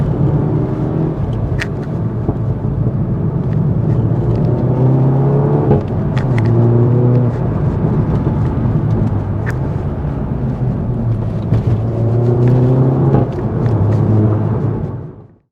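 Steady, loud engine drone and road rumble from a VW Golf GTI Clubsport S (MK7) on a scenic road near Lake Bala, with pitch rising and falling through gear changes for the whole stretch, no talking.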